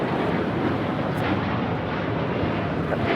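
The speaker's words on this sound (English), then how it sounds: "This is United Airlines Flight 32 taking off to Tokyo Narita on the 787-9 Dreamliner." A United Airlines Boeing 787-9 Dreamliner departing LAX for Tokyo Narita roars with a loud, steady, broadband engine rush that fills the whole moment without a break.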